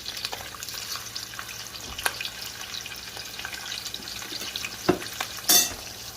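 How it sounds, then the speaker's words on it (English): Sausage fries in small batches in a pan with green and red bell peppers and onion, a steady soft sizzle with light stirring and a few louder clacks and scrapes toward the end. "fry your sausage in the batches, like in a small increments"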